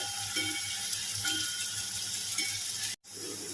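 Onion, garlic, salt, chili powder and red chili flakes fry in a pan with a steady close sizzle and occasional stirring scrapes, cut by a brief dropout near the end.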